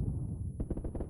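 A grenade explodes in the battle game PUBG, heard as a burst of loud, rapid cracking blasts after a low rumbling lead-in, close and dense.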